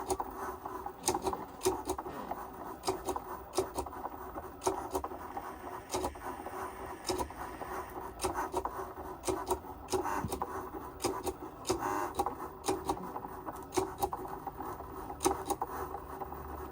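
A craft cutting machine draws on card with quiet, fast, irregular ticking and scratching, broken by small clicks and short whirs as the carriage moves back and forth, close but faint.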